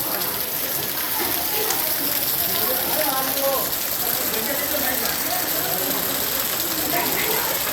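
Torrential afternoon rain pours onto a waterlogged street in Wankaner, with a steady dense hiss and a faint engine running somewhere nearby. A reporter talks over the downpour throughout.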